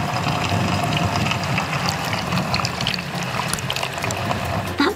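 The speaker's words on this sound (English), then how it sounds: "Did you hear all the water spraying around?" Water sprays steadily from rotating dishwasher spray arms, a continuous dense hiss and rush that holds at even loudness throughout, close and alone with no voices.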